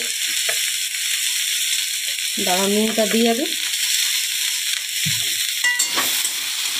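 Sliced teasel gourd and bitter gourd fry together in a pan with a steady, close sizzle, while someone speaks briefly over it partway through.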